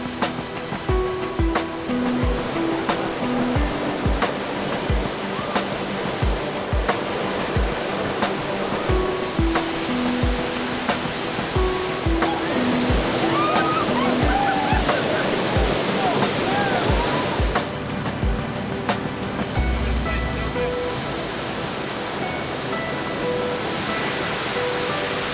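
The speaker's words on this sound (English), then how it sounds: "I'm sure you can hear the roar of the waterfall. It's King's Cascade" King's Cascade waterfall in the Kimberley roars steadily and loudly close by, a dense, continuous wash of falling water that fills the whole clip, with faint voices and music-like tones underneath.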